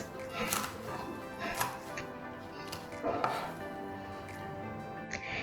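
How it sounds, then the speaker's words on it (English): A knife chops fresh potato leaves on a cutting board in a home kitchen, with several sharp, separate knocks spaced irregularly and close by, alongside light clatter and no talking. "Start by cutting the fresh leaves."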